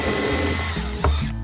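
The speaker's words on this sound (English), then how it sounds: "Put your drill in." A power drill whirs steadily at close range while drilling into wood for drawer slides, its motor pitch dipping and rising under load before it cuts off abruptly.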